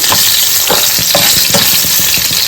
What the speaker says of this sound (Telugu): కొంచెం మనం ఫ్రై చేసుకోవాలి కొద్దిగా